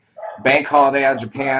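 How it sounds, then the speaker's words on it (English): A dog barks and yips in the background of a room while someone talks steadily over it, the barks sitting under and between his words. "Apologize for the dog in the background."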